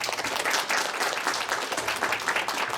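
An audience at a Korean university ceremony applauds warmly, a dense and steady wash of clapping that holds at an even level throughout.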